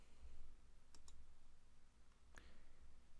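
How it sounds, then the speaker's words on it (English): A computer mouse clicks a few times at close range, a quick double click followed by a single click a second later, faint against a steady background hum. "And we'll go ahead and click OK."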